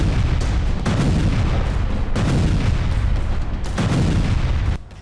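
Explosions from the bombardment of Gaza roll on as a loud, continuous rumble punctuated by repeated heavy booms, fading sharply at the end.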